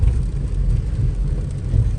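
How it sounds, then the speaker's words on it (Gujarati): Light drizzle falls steadily outdoors, a soft continuous hiss with a low rumbling undertone and no pauses. "જ ઝરમર ઝરમર વરસાદ ચાલુ છે"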